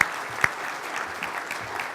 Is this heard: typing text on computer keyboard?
no